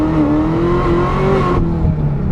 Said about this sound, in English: So here's first gear at a roll. It's not gonna hook for anything.